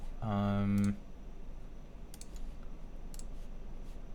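Keys on a KBDfans Tofu60 3.0 mechanical keyboard click in a few sparse, quiet clusters after a brief tonal beep, with faint room noise in between.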